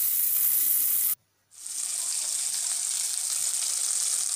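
Capsicum roasting in a pan gives a loud, steady sizzle close by, cut off by a brief silence before the hiss resumes and carries on evenly.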